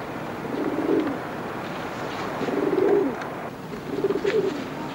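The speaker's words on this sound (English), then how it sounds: "What about these pigeons?" Pigeons coo in three soft, rolling bursts spaced about two seconds apart, close by over a low, steady background hum, in a 1964 wartime drama with no speech.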